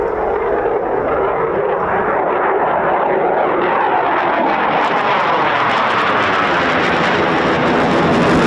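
A Eurofighter Typhoon FGR4 jet with EJ200 engines passes in reheat at an RAF air display, a loud, steady broadband roar that swells and shifts in pitch as it flies by.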